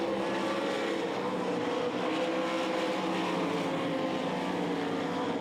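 A 360 sprint race car powers off turn 4 at the 2003 360 Nationals, a loud, continuous engine roar holding steady throughout with no voices over it.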